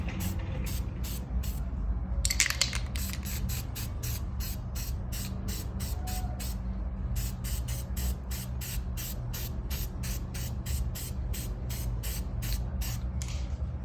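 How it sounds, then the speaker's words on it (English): Copper gasket spray hisses from an aerosol can onto exhaust gaskets for a car downpipe install, coming as a long series of short, evenly spaced bursts close by with brief pauses between runs. "what I do with all my gaskets is I copper spray them"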